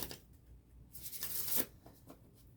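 A deck of Steampunk Tarot cards is shuffled by hand, a soft riffling flutter swelling to a brief crisp burst and then trailing off in quiet close rustles.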